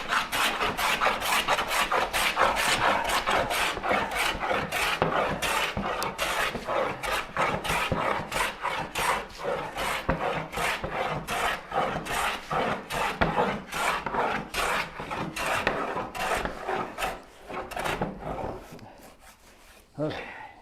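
A hand tool shaves wood for a turning bow saw, making rapid, continuous scraping and rasping strokes close by for most of the span before it tapers off near the end; a dog barks briefly in the background.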